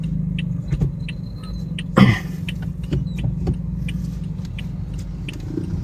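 A van pulls away on a street crowded with cars and tricycles. Its engine drone is steady and low, with a louder swell around the middle, set against general traffic noise and small rattles.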